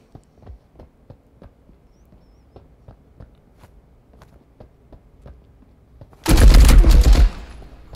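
Burst of automatic gunfire from a weapon in the Marauders video game, a loud, dense rattle lasting about a second, preceded by soft repeated footsteps and clicks and followed by a fading tail.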